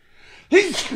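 A single sharp, close sneeze bursting out after a brief quiet inhale.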